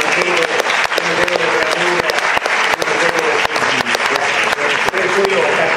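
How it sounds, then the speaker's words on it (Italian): An audience applauds steadily at a talk, a dense continuous patter of clapping heard close and loud, with voices mixed in beneath it. "vogliamo fare un applauso."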